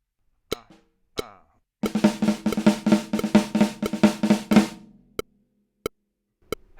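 Drum kit playing an inverted sticking pattern: two separate strokes, then a quick, even burst of close drum hits for nearly three seconds, followed by a few sparse single strokes.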